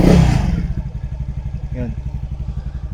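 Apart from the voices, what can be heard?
Skydrive Sport 115 CVT motorcycle engine being revved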